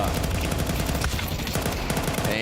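Rapid bursts of FAMAS rifle fire in Counter-Strike during a professional tournament match, loud, dense and continuous gunfire at close range with no voices heard.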